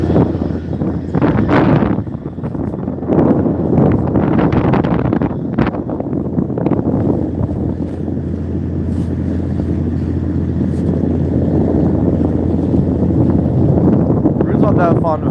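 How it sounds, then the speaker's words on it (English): Wind buffets a fishing boat out on the water in Alaska, roaring steadily against the microphone while a person talks over it in short bursts. "It's gonna get windy. You won't be able to hear me."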